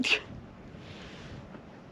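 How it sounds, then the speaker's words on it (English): A single sharp sneeze right at the start, followed by quiet room noise. "I had to sneeze."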